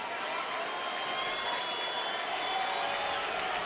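Soccer supporters at a New Mexico United versus San Antonio FC match applauding as the coach walks past, a steady, distant wash of crowd clapping and murmur filling the stadium.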